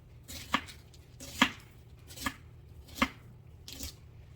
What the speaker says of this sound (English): And I'm cutting them about a quarter of an inch thick.